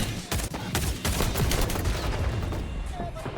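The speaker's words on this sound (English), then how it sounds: "I wish I could shoot the gun fast" Repeated single shots from a DMR marksman rifle, the Mk20 SSR, in the shooter game XDefiant, spaced steadily apart over a constant background of game ambience and effects.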